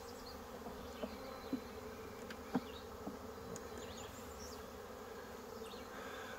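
Steady buzzing of a honey bee swarm fills the clip, a constant hum with a few soft knocks and thumps scattered through it.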